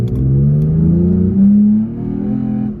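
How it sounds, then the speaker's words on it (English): A Toyota Tacoma V6 pickup truck engine revs up loudly with a rumbling aftermarket exhaust note, climbing in pitch, peaking briefly, then settling back to a lower growl. "you can hear it gets quite a bit louder when you really get on the gas"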